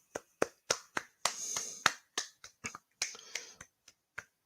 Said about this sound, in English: No, minute's applause.